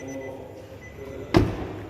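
The rear door of a 2021 Nissan Navara Pro-4x pickup swings shut with a single solid, close thud over quiet background.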